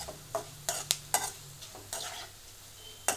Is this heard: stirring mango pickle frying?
yes